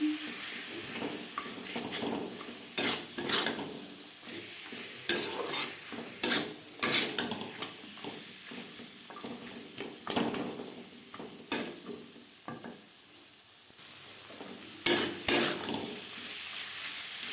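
A spoon stirs peas into a tomato-based curry for a no-onion, no-garlic potato and cauliflower dish, with irregular scraping clatters against the pan over a low, soft simmering sizzle.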